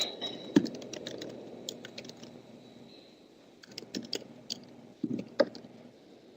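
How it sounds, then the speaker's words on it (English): Keys on a computer keyboard are tapped in quick bursts of clicks, close and moderately loud, with short pauses between the runs of typing. "Okay, I heard some typing there"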